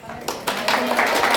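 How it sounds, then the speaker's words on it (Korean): A lecture audience claps together in a short burst of brisk, overlapping hand claps that build over a second or so. A voice speaks faintly underneath. "아침에 박수를 쳐준단 말이지"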